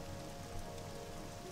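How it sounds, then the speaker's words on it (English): Rain in the video game Morrowind comes as a faint, even patter and hiss that fills the whole short stretch without a break. "Oh, it's raining again."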